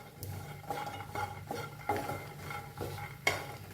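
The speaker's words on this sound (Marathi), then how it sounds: "त्याच्यातच खोबरं भाजून घेऊया" Coconut dry-roasting in a pan with peanuts, stirred in a steady rhythm of soft scrapes and light clinks of a spoon against the metal, close and moderately quiet, with no talking.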